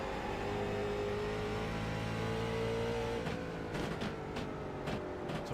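Stock cars accelerate hard through the Myrtle Beach race as one leader dives underneath a lapped car, engines droning loud and steady before a few sharp bursts and pops near the end, no talk over it.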